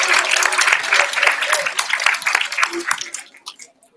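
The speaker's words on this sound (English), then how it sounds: "everyone give the parents a big round of applause" A crowd at a school poetry contest applauds with dense, steady clapping that gradually thins out and fades to scattered claps at the end.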